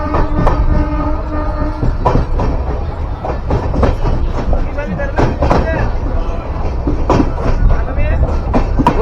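A passenger train on a long-distance run from Mumbai to Chengannur rolls through Kerala near Kozhikode, a loud steady rumble with rhythmic clacks and sharp metallic knocks throughout, heard from inside the carriage.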